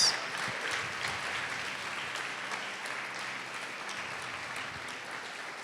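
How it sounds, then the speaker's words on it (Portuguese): Congregation applauding in a church during a sermon, steady dense clapping from many hands holding an even level throughout, moderately distant with no voices over it. "Pode aplaudir e glorificar Deus."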